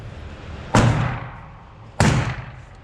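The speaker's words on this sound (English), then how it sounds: "first shots with a Springfield Echelon Compact" Two sharp, loud gunshots from a Springfield Echelon Compact pistol at an outdoor range, about a second apart, each with a quick decaying ring.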